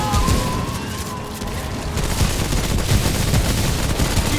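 Gunfire in the co-op video game Remnant: From the Ashes, a loud, continuous stream of rapid shots and booms filling the whole stretch, with no voices over it.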